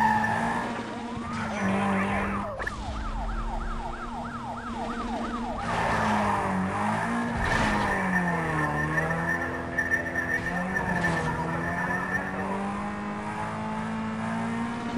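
Police patrol cars chase with wailing sirens in the Need for Speed Most Wanted video game, several sirens sweeping over steady engine roar and tyre skids throughout, loud and continuous with no talk.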